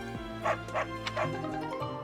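Happy dog in Fire Emblem Three Houses letting out three quick cheerful yips, close and evenly spaced over a soft continuous game music bed.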